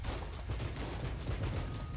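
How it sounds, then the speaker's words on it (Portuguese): Rapid gunfire from the Enter the Gungeon video game, a dense barrage of repeated shots in quick bursts with a booming low end, continuous for the whole stretch. "muito tiro"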